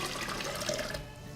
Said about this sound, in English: we're going to take both of the oil and the water and we're going to put them into our pitcher